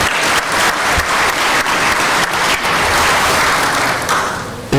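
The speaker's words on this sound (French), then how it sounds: "Sous vos applaudissements, s'il vous plaît." Audience applause at a talk on the role of actuarial work in an insurance company: a steady, dense wash of many hands clapping that carries on for several seconds, then thins slightly at the end.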